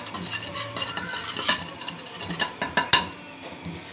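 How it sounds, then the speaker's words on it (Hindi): Cucumber and spices being stirred into corn chaat, with soft scraping and rubbing through the mix and a few sharper utensil clinks against the bowl near the end, close and fairly quiet. "और जो खीरा और हमने जो मसाले रखे थे वो भी अच्छे से इसमें डाल के मिक्स करेंगे।"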